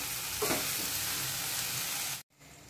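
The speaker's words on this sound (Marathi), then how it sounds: "आता ही भेंडी आपण मंद आचेवरती छान असं सुटसुटीत होईपर्यंत शिजवून घेऊया" Okra with crushed peanut powder cooking in a pan on a low flame, a soft continuous sizzle with faint stirring scrapes, ending abruptly.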